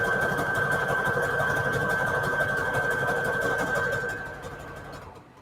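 Sewing machine stitching lace trim onto strips of bed sheet fabric, a fast steady mechanical whir with a bright tone, running continuously and then slowing and fading out near the end.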